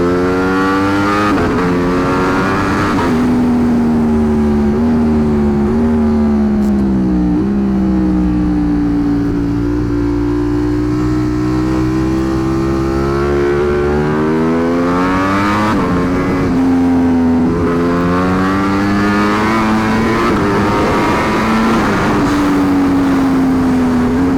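A 2025 Ducati Panigale V4S accelerates on a road through the Gorges de l'Ardèche, its loud, close engine climbing through rising revs, easing off, then pulling hard again with no talk over it.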